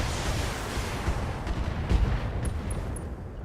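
Mech weapons firing in BattleTech, a dense low rumbling barrage with a few heavier thuds, followed by three faint high beeps near the end.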